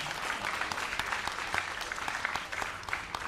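Steady applause from a crowd at a high school senior awards ceremony, dense continuous clapping at even volume throughout.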